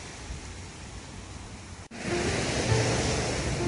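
Ocean surf rolling onto the shore at the coast by Kamakura Kōkō-mae station, a steady broadband wash of waves that briefly cuts out and returns louder and closer, with wind noise on the microphone and no speech.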